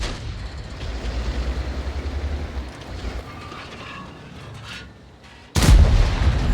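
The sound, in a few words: SU-130PM tank destroyer firing standard AP rounds, video game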